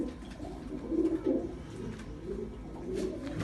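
Loft pigeons kept as paired birds in a village coo softly and continuously, low murmuring calls rising briefly near the middle against steady background noise.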